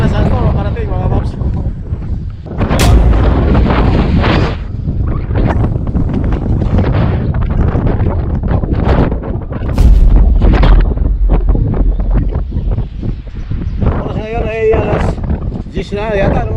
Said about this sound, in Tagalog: talagang malakas yung hangin